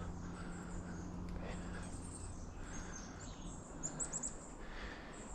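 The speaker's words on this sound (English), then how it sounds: "Just enjoy the sounds of the forest here." Quiet forest ambience paused on a mountain bike ride, with faint scattered birdsong chirps over a soft background hush.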